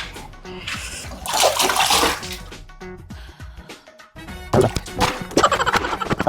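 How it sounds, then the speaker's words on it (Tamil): Hot water splashes and pours during a bath in a bachelor room in Dubai, in bursts of loud sloshing and splattering with quieter drips and knocks between, fairly close. "இப்படி சூடுது குளிக்கிறது."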